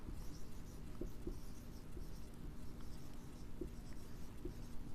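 Marker or chalk writing on a board during a Class 6 maths lesson on whole numbers, soft scratchy strokes with a few light taps, faint and close against a quiet room hum.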